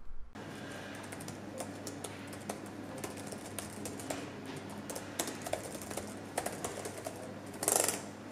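A steady run of soft, springy keystrokes comes from the deep-travel keyboard of a Dream Machines RT3070 gaming laptop, typed at a quick even pace, close and clear over a faint background hum.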